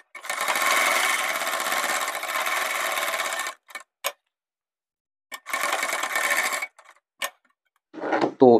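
A sewing machine stitches a gents' pant in two long, steady whirring runs, each lasting a few seconds, with abrupt stops and a few short mechanical clicks in the silent gaps. A brief burst starts again at the end.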